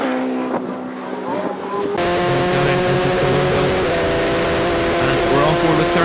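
Sevens race cars scream down the start-finish straight at Kirkistown circuit, engines howling at high revs as a car passes close and loud, with a race commentator talking over the noise.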